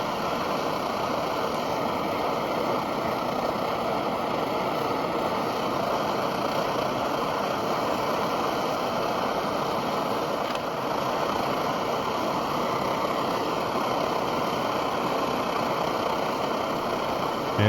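Refurbished Optimus 8R camping stove burning steadily with a constant close roar and no change across the whole stretch.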